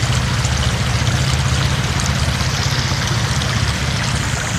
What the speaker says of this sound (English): Yep, and the water floods us out again.